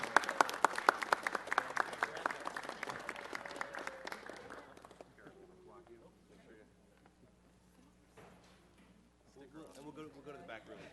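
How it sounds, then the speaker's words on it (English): Applause from a crowd fills a city council chamber, many hands clapping briskly and fairly loudly for about five seconds before dying away into quiet room sounds and murmured talk. "Give them a round of applause."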